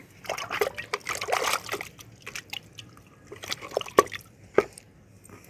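Water trickles and drips into soil around a potted tomato plant on a terrace garden, with soft splashes and a few sharp drops, near and fairly quiet.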